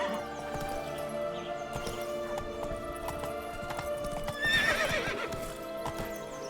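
Roach, the horse in The Witcher 3, clip-clops steadily at close range and gives a loud whinny partway through, over a busy game soundscape with no talk.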